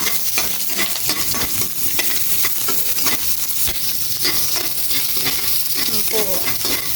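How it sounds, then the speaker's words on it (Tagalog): Garlic and onion sauté in hot oil, a loud continuous sizzle and crackle with a utensil stirring and scraping throughout, close and with no voices. "magigisa na po si mama ng bawang"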